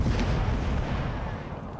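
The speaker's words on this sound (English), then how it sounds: "They're trying to fire a cluster shot here to take out some skirmishers." Artillery booms in a Napoleon: Total War battle between Ottoman skirmishers and English artillery, a dense, heavy rumble of cannon fire rolling continuously and loudly throughout.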